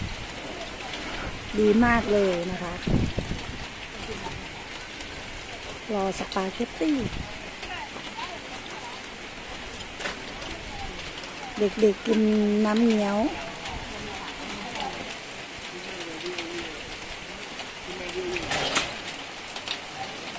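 Rain splashes onto a tent at an elephant-camp cafe in Chiang Mai, a steady wet hiss in the background while women and children chat loudly over it.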